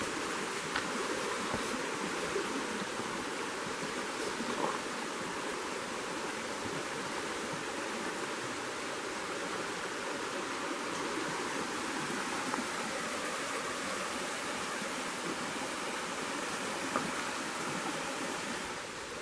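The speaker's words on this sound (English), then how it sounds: "listen to gorgeous Wolf Creek here" Wolf Creek at Reece Farm, Georgia, rushes and babbles in a steady, even hiss, continuous and moderately close, with no voices.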